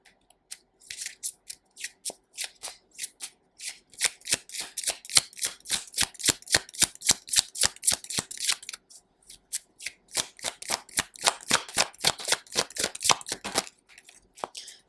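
Tarot cards shuffled by hand during a pick-a-card reading, a long run of crisp, rapid riffling flicks in quick uneven bursts with one brief pause, close and fairly quiet with no speech.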